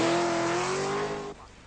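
Ex-Ford driver Roger Clark's V8-engined Triumph TR7 rally car on its first forest stage, its engine roaring loudly at steady high revs, then cutting away abruptly near the end.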